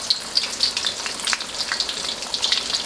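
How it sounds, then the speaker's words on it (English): Shrimp frying in about a cup of vegetable oil, laid in a batch of seven, with a loud, close, continuous sizzle full of sharp crackles and pops and no voices. "We're going to let these things fry off for a couple minutes"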